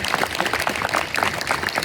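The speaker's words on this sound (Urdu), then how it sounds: "تالیاں بجا دیں یونس صاحب کی" Audience applause for Yunus sahib at a Pakistani yoga event, a steady patter of many hands clapping throughout, fairly close and even, with no talk over it.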